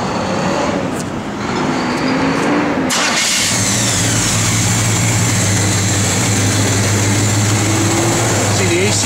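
A 1971 Chevrolet Chevelle SS convertible engine idles with a low, steady rumble after a brief start, running on under faint background noise.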